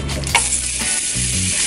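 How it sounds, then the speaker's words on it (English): Steady, loud sizzling of opelu mackerel frying in hot oil, a continuous crackling hiss with a low hum underneath and no talking. "You hear that sizzling?"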